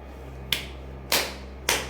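Three sharp hand claps spaced evenly about half a second apart, performed as part of a Hindu protection mantra ritual, each a crisp broadband crack over a steady low electrical hum.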